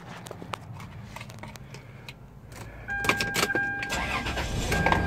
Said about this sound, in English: let's fire up the motor, let you listen to that